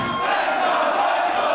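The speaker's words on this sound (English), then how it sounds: "Listen to this crowd. Absolutely electric in the heart of the German capital" A packed wrestling arena crowd in Berlin roars and cheers continuously, a dense, loud wall of voices with no letup.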